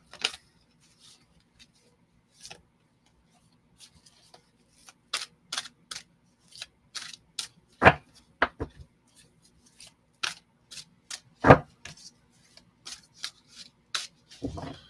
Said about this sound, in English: I will do a cleansing shuffle here